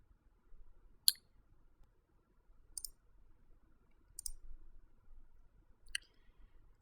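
A computer mouse clicks four times as bookmarks are selected in a web browser, giving sharp, isolated clicks spaced about a second or more apart over a faint quiet background.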